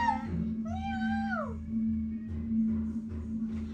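A cat gift sound effect on an IDN live stream, a clear drawn-out meow rising then falling, played over a steady low electronic hum with soft pulsing underneath.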